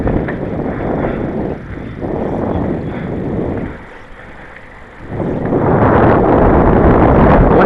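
Strong wind gusts outdoors, a loud, steady roar that dips briefly mid-clip and then builds back up, with no talking.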